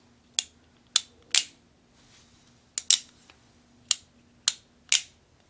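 Sharp metallic clicks of a Taylor's & Co Smoke Wagon Deluxe 5.5-inch revolver hammer being cocked ring out in a loose series of about eight, some in close pairs, crisp and near against a quiet background.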